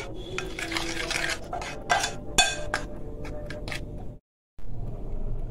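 Liver being stirred with black pepper and dried coriander, Alexandrian style: a close run of clinks, scrapes and knocks of a utensil against a pan or bowl that stops briefly and then starts again, with no talking.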